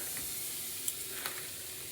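Butter melts in a hot wok with a soft, steady sizzle, close but fairly quiet, broken by a couple of brief crackling pops.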